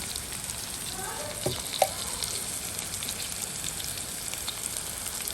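Steady crackling sizzle of spices, including fenugreek and fennel seeds, frying in hot oil, close and continuous, with a couple of faint clinks partway through.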